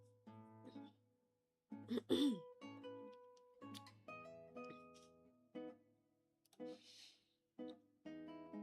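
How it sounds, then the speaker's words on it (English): A series of harsh coughs and throat-clearing bursts, some strained and wheezy, separated by short pauses. "I had to cough my brains out"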